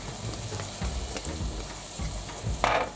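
Onions and mushrooms with Chinese five-spice sizzle steadily in a frying pan as they are stirred, a close, continuous crackle with a few scraping stirs.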